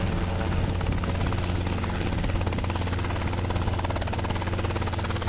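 A helicopter flying steadily and yawing left and right as tail rotor thrust changes, its rotor beat a loud, continuous rhythmic thrum with a dense engine whine throughout.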